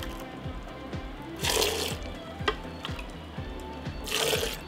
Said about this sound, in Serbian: sipam je u tegle i punim do vrha